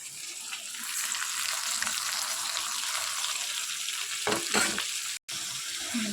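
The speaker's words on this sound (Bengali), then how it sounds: "মশলাগুলো সব ভাজা ভাজা হয়ে গেছে" Onions and ground spices (coriander, cumin, Kashmiri chilli powder, red chilli powder, turmeric) frying in a pan give off a loud, steady sizzling hiss, with a few brief scraping stirs near the end and a momentary cut to silence.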